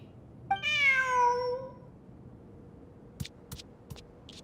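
A cat in the game Genshin Impact gives one clear, drawn-out meow that falls in pitch, followed by a few soft clicks and taps over a quiet background.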